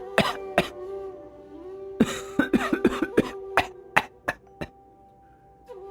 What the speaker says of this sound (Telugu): నాన్నగారు, మళ్ళీ దగ్గు వస్తోంది.